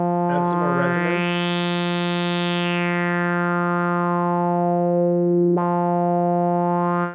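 Synthesizer with slow LFO modulation and added filter resonance: a sustained buzzy tone whose bright resonant peak sweeps slowly up and back down, with a short click and a change in tone near the end.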